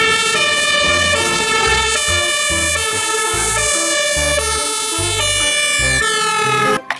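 A toy fire truck's electronic siren wails steadily and loudly for several seconds, with a pulsing low rumble beneath the tone and a brief clatter at the end.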